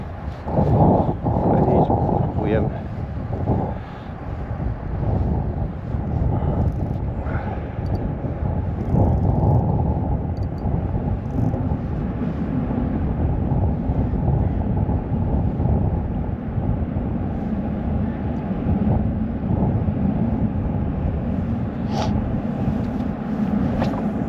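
Strong wind buffeting the microphone in a steady low roar while fishing for zander on the Vistula, with occasional thumps and clicks from nearby handling.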